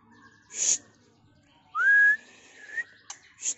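A white-rumped shama gives sharp high chirps and a rising whistled note in short separate bursts, clear and close, with quiet gaps between.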